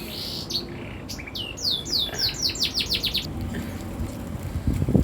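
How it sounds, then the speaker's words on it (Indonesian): Small birds chirp and tweet steadily, a rapid series of bright descending calls in the middle, heard outdoors over a low background rumble with no speech. "burungnya nggak mau berhenti"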